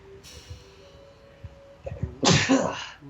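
One loud, close human sneeze bursts out after a few small breaths and sniffs, alone in a quiet indoor room.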